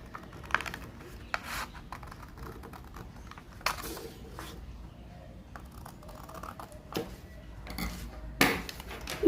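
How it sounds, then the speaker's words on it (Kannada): Fabric being cut into a square with scissors for a festival door garland, heard as a few soft, sparse snips and rustles at close range, fairly quiet, with no talk. "ಈ ರೀತಿ ಒಂದು ಸ್ಕ್ವಯರ್ನ ಮಾಡಿಕೊಂಡು ಕಟ್ ಮಾಡ್ಕೊತಾ ಇದ್ದೀನಿ"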